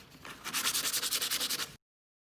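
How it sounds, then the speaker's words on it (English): Sandpaper rubbed back and forth over a piece of wood in about a dozen quick, even strokes, close and clear with no talking, ending abruptly. "So with your piece of wood and your sandpaper, you're just going to sand around everything"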